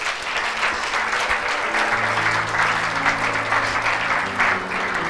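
A large audience at a church gathering bursts into sustained applause and cheering, a dense, loud and steady wash of clapping that lasts throughout.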